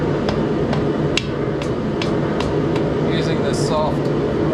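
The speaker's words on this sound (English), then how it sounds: "using this soft rubber hammer shouldn't be too bad" A soft rubber hammer taps repeatedly on part of a 1975 VW 1800cc engine during a teardown, about ten sharp, evenly spaced knocks over a steady hum of background noise.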